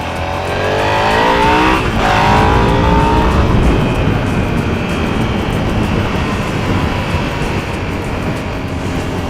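A motorcycle ridden along a road, its loud, steady engine drone and wind roar filling the whole stretch, with a rising whine early on before settling into a constant cruise.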